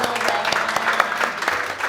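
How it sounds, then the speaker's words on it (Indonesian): Audience applause at an Indonesian film promotion event, a short burst of dense clapping from a crowd, moderately loud and continuous. "Wah, tepuk tangannya dong."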